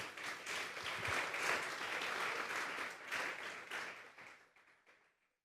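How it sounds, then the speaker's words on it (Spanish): A church congregation at a Sunday service breaks into dense, sustained applause that holds strong for several seconds, then gradually thins and fades away to silence. "Dale un fuerte aplauso pues al Señor."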